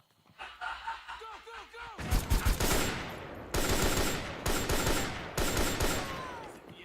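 Rapid automatic gunfire and bursts of shots from the Metal Gear Solid 4 video game, loud and close, with sustained volleys after a quieter opening of panting and voices.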